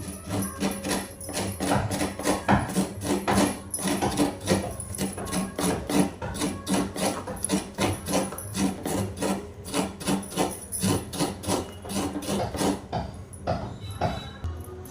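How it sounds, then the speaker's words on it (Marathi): Fresh home-grown coconut being grated by hand on a traditional Indian bladed cutter (vili), a steady rapid rasping scrape repeating rhythmically, close and fairly loud, with no talking. "आता आपण खोबरं किसून घेऊया विळीवरती"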